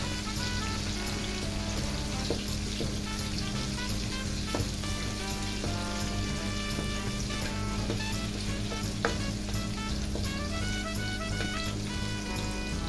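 Onions and garlic sauté in a hot pan for pakbet, giving a steady, close sizzle and crackle throughout, with occasional stirring clinks and scrapes and no voices.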